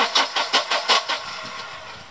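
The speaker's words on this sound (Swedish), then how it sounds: "Och så kan vi då be assistenten dra runt motorn igen." Starter cranking on a Volvo 240 engine that won't start, with ignition being checked: five rhythmic, loud whirring compression pulses about every 0.2 seconds, then the cranking fades to a faint low rumble.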